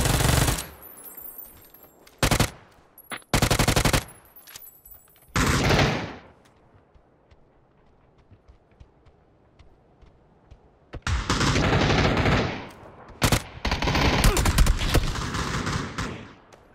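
Video game gunfire from a team shooter, an accidental friendly-fire burst: loud full-band automatic bursts in rapid clusters early on, a quiet gap, then long sustained volleys near the end, with no talk.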